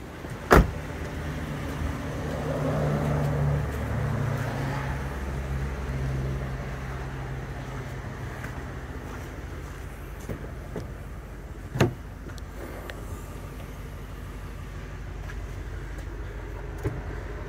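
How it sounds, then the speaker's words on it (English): The power-folding rear seats of a 2008 Ford Explorer whir with a soft electric motor hum that rises and then fades. Sharp clicks and thumps of the mechanism are heard in the quiet cabin. "it has the power folding rear seats"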